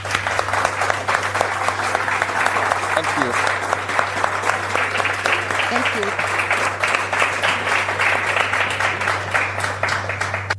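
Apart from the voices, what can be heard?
audience applause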